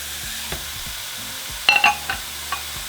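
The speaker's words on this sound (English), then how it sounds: "once the pan is hot, we're going to throw in our meat." Ground beef picadillo browns in a hot frying pan with a steady, soft sizzle, broken by a few louder clinks and scrapes of stirring.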